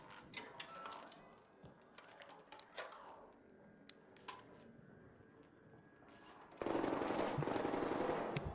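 Rapid bursts of automatic gunfire aimed at the player in an online shooter video game, dense crackling volleys that grow louder and more continuous near the end, with little talk.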